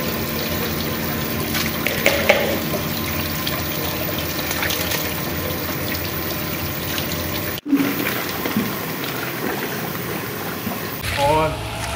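Running water gushes steadily while ingredients are washed clean for haleem at a neighbourhood haleem gathering, with a brief sharp break midway and voices and handling noise around it.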